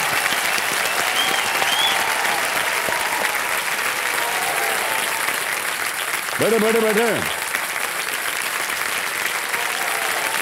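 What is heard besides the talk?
loud audience applause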